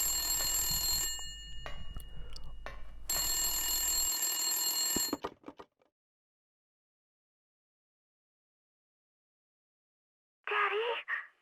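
A telephone rings in the Silent Hill video game, sustained bright ringing bursts for about five seconds that then cut to silence, followed by a short unrelated sound near the end.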